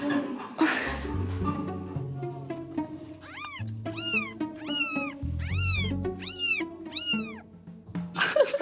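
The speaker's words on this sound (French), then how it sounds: "On va regarder les bébés chats qui sont nés." High, thin newborn kitten meows come one after another in a quick series, close by, with low murmuring and rustling around them.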